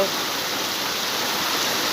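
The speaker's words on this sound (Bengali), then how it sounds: "দু এক মিনিট ফিস্টির বৃষ্টির পর মুসলধারে বৃষ্টি শুরু হয়েছে" Heavy monsoon downpour in Chapra, Nadia, coming on after a light drizzle, a steady dense roar of rain that fills the whole clip evenly and loudly, with no voices.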